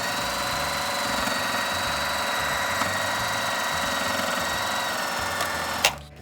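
A sewing machine runs in one continuous steady whir up close, stitching a fabric face mask, then stops abruptly at the end.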